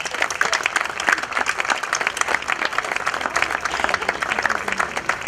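Outdoor garden music event audience applauding for a singer, a lively, even burst of many hands clapping at close range, steady throughout with no voices on top.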